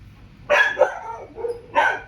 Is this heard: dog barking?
yes